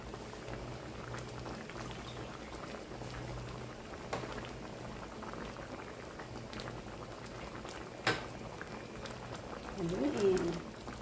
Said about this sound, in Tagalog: Pakuluan saglit hanggang sa maluto ang ating alugbati.